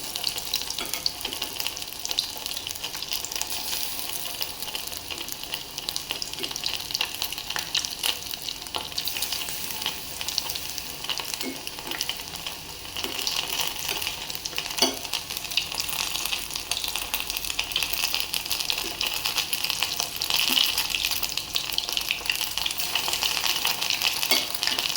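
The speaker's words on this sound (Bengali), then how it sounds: "বাচ্চাদের জন্য পাকোড়া করে দিতেছি।" Cauliflower pakoras fry in hot oil with a steady, soft sizzle and crackle that continues throughout at low level, with no talking.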